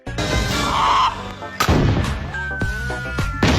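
Several loud gunshots in a comedy film ring out at irregular intervals, sharp booming cracks with echoing tails, mixed with other dramatic background sounds.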